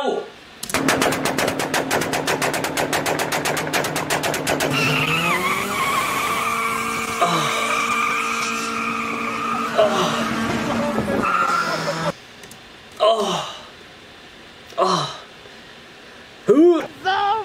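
A ricer car on the strip doing a two-step and burnout: rapid machine-gun-like limiter pops, then sustained tire squeal and engine howl, ending in a few sharp revving bursts with gaps, people talking nearby.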